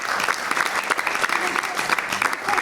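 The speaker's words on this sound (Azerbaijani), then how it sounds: "Bir alqış gəlsin şəhidlərimizin." Theatre audience applauding in tribute to martyrs at a memorial stage performance, a brief burst of dense, close clapping with a voice speaking over it.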